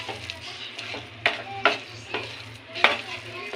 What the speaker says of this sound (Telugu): దీన్ని కలుపుతూనే ఉండాలి, లేదంటే అడుగు అంటుపోతుంది. కలుపుతూ ఉండాలి, బెల్లం బాగా కరిగిపోవాలి